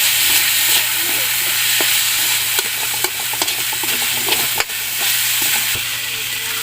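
Honey cooking in a pan with a pinch of salt gives off a steady close sizzle, with repeated scrapes and taps of the stirring utensil, and no one speaks.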